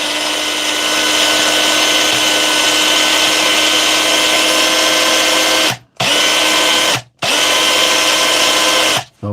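A DeWalt cordless hammer drill, tested after a battery repair, runs in a loud sustained whir, stopping briefly twice near the end before starting up again.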